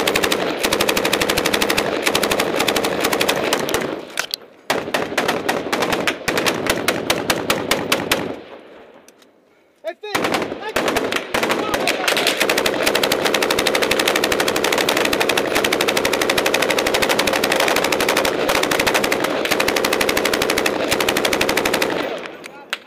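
Dense machine-gun fire from a firefight in Afghanistan, recorded up close on a helmet camera: long loud bursts of rapid shots with a brief lull mid-way before the shooting resumes nonstop.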